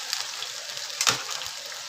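Ginger-garlic paste fries in hot oil in a pan, giving a soft continuous sizzle with a brief louder crackle and clatter near the middle, close by and without speech.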